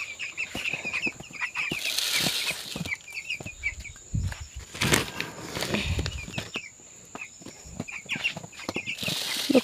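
Chickens cluck and squawk around feed in a rural yard, intermittent calls near and far with some wing flapping and scattered handling noises, no talk over them.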